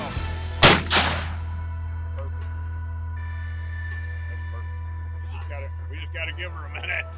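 A single loud rifle shot cracks during a buffalo hunt, followed by a short echoing report and then a quiet outdoor hum with faint voices near the end.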